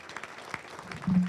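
Brief applause at a high school ribbon cutting ceremony, a short patter of scattered clapping heard faintly and at a distance.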